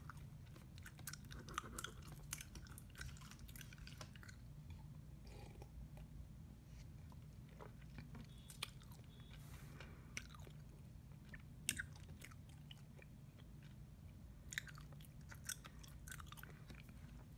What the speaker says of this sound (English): I've been chewing this spearmint gum for months already.